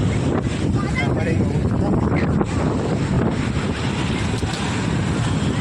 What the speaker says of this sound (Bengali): এই হচ্ছে ঢেউ,